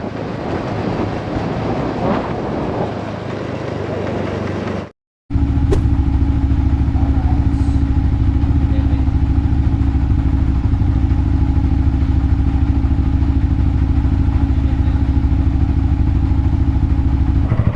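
A Yamaha XMAX 300 motor scooter engine drones steadily while riding, with wind buffeting the microphone; a brief dropout near the start, then continuous loud engine noise.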